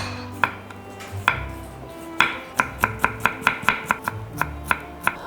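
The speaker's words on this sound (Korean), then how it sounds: "그 다음에 당근을 썰어줄게요." A knife chops carrots on a cutting board with about a dozen crisp, sharp thunks. They start sparse and then settle into a quick, even rhythm, close and clear with no talk.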